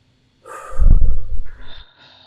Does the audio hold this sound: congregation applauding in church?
no